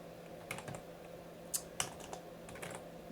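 Scattered keystrokes on a computer keyboard while entering code into a Common Lisp interpreter, quiet and irregular with a few sharper clicks over a steady low room hum.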